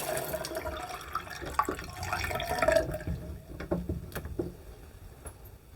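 Scattered water drips and small splashes from a just-repaired dripping tap, a few distinct drops falling irregularly after a stretch of running water.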